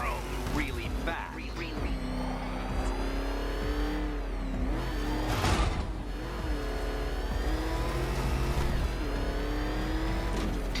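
The Riddler's ego-mobile in Batman: Arkham Knight revs and speeds, a steady loud engine whine that swells and dips with acceleration while a voice talks over it.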